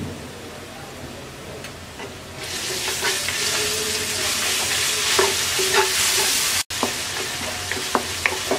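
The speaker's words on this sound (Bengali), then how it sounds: "আদা রসুনটাকে আমরা 1 মিনিট ভেজে নেব।" Ginger-garlic paste frying in a pan for a vegetable pulao, a steady close sizzle that swells sharply a couple of seconds in and continues with occasional scrapes and pops.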